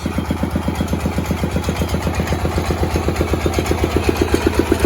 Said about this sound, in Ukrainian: Тракторець у нас працює.